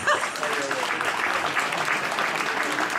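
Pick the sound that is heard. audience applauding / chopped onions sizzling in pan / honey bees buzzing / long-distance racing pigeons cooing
audience applauding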